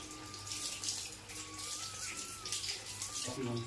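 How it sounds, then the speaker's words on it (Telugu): Raw prawns being washed under a running tap, with a steady close stream of water splashing into a sink throughout and a faint voice underneath. "క్లీన్ కడిగేసుకున్నాం, కడగాలి శుభ్రంగా"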